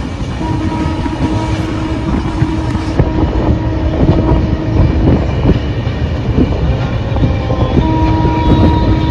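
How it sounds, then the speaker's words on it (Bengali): The Shantiniketan Express from Bolpur to Howrah rolls along the rails, a loud, continuous rumble with clattering wheels heard from inside a second-class seating coach. "আমাদের ট্রেন 123 শান্তিনিকেতন এক্সপ্রেস বোলপুর থেকে 1:15 ছাড়লো"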